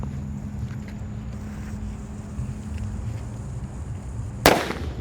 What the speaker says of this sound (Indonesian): di sini ada mercon Bledek. Kita nyalakan ya